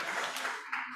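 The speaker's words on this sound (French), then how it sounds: "on les applaudit" Brief applause from an award ceremony audience at Games on Web 2023, a dense patter of clapping that thins and fades toward the end.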